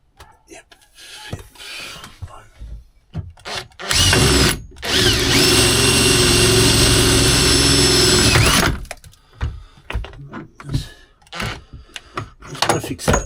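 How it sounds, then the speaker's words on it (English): A power drill bores a hole into a battery box for a Toyota Coaster solar conversion, running loud and steady for about five seconds with a bit of surrounding workshop clatter and speech before and after. "This drill keeps coming loose."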